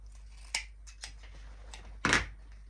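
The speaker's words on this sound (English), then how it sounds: "I'm actually going to go ahead and trim these tails" Scissors trim the ribbon tails of a Halloween wreath bow: a few light close snips, then one louder decisive cut, with no talking.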